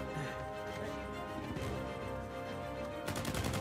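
Gunfire in the Uncharted 4 video game: loud, dense bursts of shots and impacts layered over a continuous game soundtrack, with a sharper cluster of cracks near the end.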